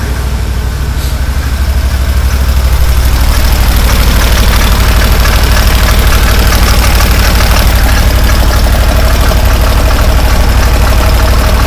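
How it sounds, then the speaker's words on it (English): A Massimo Militia 1000 UTV with a no-spark fault runs steadily and loudly up close, its engine drone carrying a rattling clutch noise throughout. "I can hear the clutch in there"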